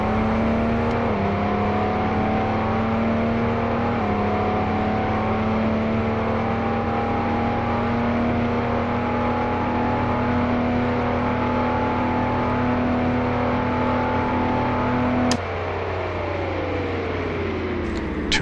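A car engine driving in Car Mechanic Simulator 2018, a steady sustained drone with gradually rising pitch through gear steps, then a sudden drop as the revs fall near the end.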